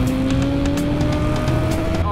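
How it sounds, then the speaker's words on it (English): A Suzuki motorcycle engine runs loud and close with a steady droning note, broken by several sharp backfire pops spread across two seconds. "Oh, backfire."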